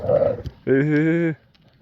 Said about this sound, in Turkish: Köpekler yıldırıyor.